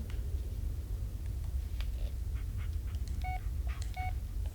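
A phone in the horror video game Blair Witch gives two short electronic beep pairs near the end, over a steady low rumbling forest ambience.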